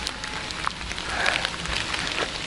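Steady rain patters on a stony mountain trail on Mount Sindoro, a dense, even hiss of drops with scattered closer taps and no voices.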